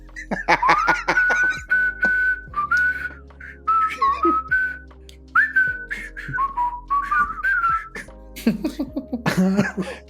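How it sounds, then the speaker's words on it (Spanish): A person whistles a wavering melody with sustained notes, close and fairly loud, followed by a burst of laughter and coughing near the end. "procedo a clavar a Cristóbal para que se ponga a silbar y a cantar en inglés"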